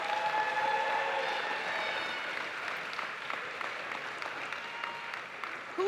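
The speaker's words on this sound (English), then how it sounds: "Let's give them a round of applause." Audience applause at Lincoln University's commencement ceremony, a broad crowd clapping in a large space that starts full and gradually thins over about six seconds, heard alone without speech.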